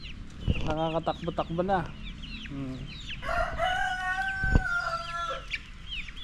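Breeder chickens on a farm are heard up close: a rooster crows loudly and hens cluck, while someone talks in between.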